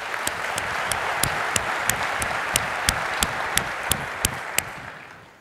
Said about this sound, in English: And again, a round of applause,